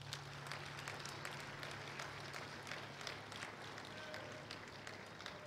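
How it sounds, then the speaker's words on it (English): Scattered audience clapping at a school ceremony honoring students, a quiet patter of many hands heard from a distance over a low steady hum, continuing evenly for several seconds. "So give yourself a round of applause"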